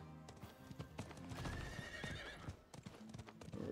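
A horse in the video game Diablo IV whinnies while its hooves clip-clop steadily underneath, the neigh and hoofbeats fairly quiet and continuous.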